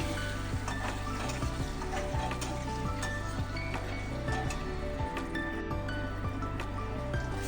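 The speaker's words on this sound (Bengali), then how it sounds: "একটু হালকা ফ্রাই করে নেবো আলুগুলোকে।" Three potatoes fry lightly with turmeric powder in hot oil, a dense, steady sizzle heard up close with scattered crackles and occasional clinks of a utensil stirring.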